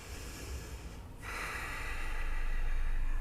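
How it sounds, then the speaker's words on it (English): A person doing a home yoga shoulder stretch breathes through the nose: a soft exhale, a brief pause, then a long, steadily louder inhale, close and alone. "Breathe."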